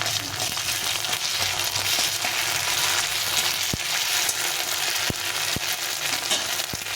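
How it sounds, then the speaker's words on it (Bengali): Browned onion frying with ground ginger and green chilli paste gives a loud, continuous sizzle close by, broken by occasional sharp clicks of a spoon against the pan. "এখন এর মধ্যে দিয়ে দেবো একটু আদা আর কাঁচা লঙ্কা বেটে রেখেছিলাম, এটা দিয়ে একটু ভেজে নিতে হবে।"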